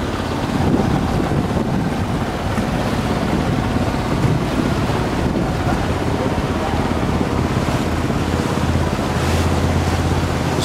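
A sailing boat out from Whitby harbour in rough water, with constant wind buffeting and rushing waves that stay loud and unbroken throughout.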